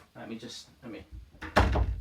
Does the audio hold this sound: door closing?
yes